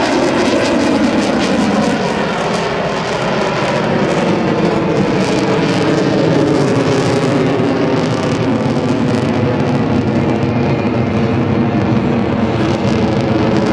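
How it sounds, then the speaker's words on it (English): A CF-18 Hornet fighter jet roars loudly and continuously at an air show demonstration, its engine rumble sweeping as it pulls into a square loop. "Now, with a 7G pull to the vertical, Captain Gobeil and the square loop."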